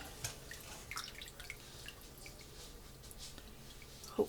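Turkey bone broth being strained, with faint liquid dripping and trickling in a quiet room, soft scattered drops and a slightly louder splash at the very end.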